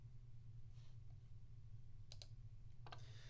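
Two quick pairs of sharp mouse clicks sound over a low steady hum in a quiet room while someone navigates to the next question of an online exam.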